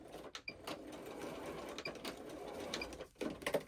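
A home sewing machine stitches along the bottom edge of a small fabric project in steady continuous runs, with brief pauses and restarts and a few louder bursts near the end.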